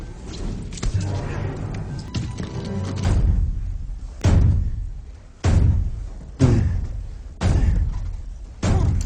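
Heavy doors on a crashed plane fuselage in the TV drama Lost swing open and bang, a series of loud, close metallic thuds and slams spaced a second or two apart, each ringing out before the next.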